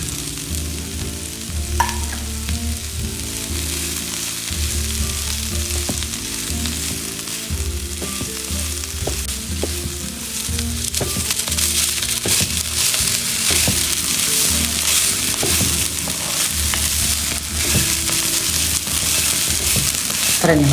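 Ingredients for green coriander chutney fry in a hot pan, a continuous dense sizzle with scraping stir strokes and occasional crackles, building slightly louder partway through.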